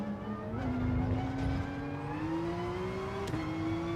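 A race car lapping Laguna Seca in GT Sport, its engine droning steadily at close range with pitch slowly climbing as it accelerates, plus a brief dip as it shifts or brakes.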